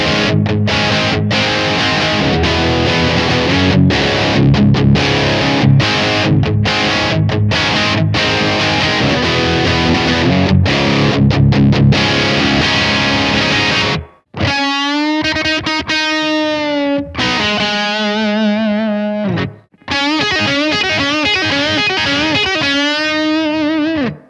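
Electric guitar played through the crunch channel of a Blackstar St. James 100 amp with the gain set high, loud and distorted: dense chugging chords that break off into ringing sustained notes and melodic phrases, with no voices.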